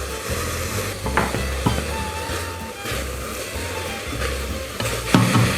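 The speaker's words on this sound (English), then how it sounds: "The garlic goes in next." Garlic sizzles in a pot for a herby bulgur soup, a soft steady crackle with a few stirring scrapes and light knocks.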